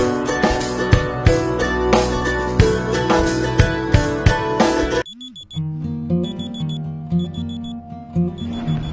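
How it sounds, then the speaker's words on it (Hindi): An alarm clock rings loudly in a repeating electronic pattern, then switches to a thinner, rhythmic beeping tune for the remaining seconds. "सुबह के 3 बजे मेरा पहला अलार्म बजा"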